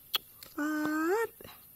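A dog lets out a single drawn-out whine near the microphone, a tonal cry lasting about two-thirds of a second that bends upward at the end, with faint scattered sounds before and after.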